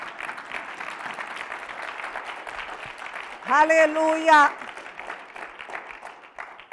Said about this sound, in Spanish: Dale el aplauso a Dios por ello.